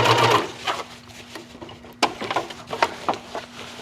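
A sewing machine stitches across fabric to make ruching, running in short close bursts with brief pauses between runs, and no talking.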